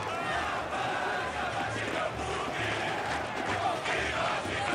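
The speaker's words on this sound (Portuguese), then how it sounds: "Que espetáculo na arquibancada, a torcida inflamada não se contém." Dense stadium crowd roaring and chanting in FIFA 23 during a Brazilian Série B match between Guarani and ABC, a continuous loud wash of cheering voices with rhythmic swells.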